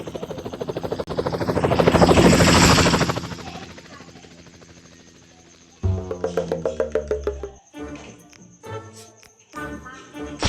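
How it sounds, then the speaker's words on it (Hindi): A helicopter's rotor thumps loudly overhead, swelling then fading, followed by rapid choppy bursts close by. "ये हेलीकॉप्टर लेके भाग रहा है।"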